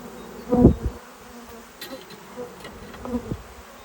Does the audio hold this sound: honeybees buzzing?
yes